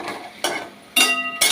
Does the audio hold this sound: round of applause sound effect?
no